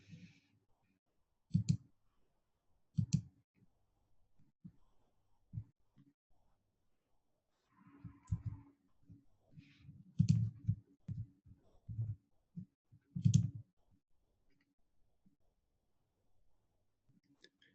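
Computer mouse clicks during a UXPin prototyping software demo, sparse single and double clicks scattered at irregular intervals over near silence, close and crisp.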